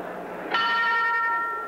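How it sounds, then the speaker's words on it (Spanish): A boxing ring bell rings once to open the seventh round of a 1970 professional fight, a clear struck tone ringing out and slowly fading over faint arena background. "esta es la campana para el séptimo round de la pelea"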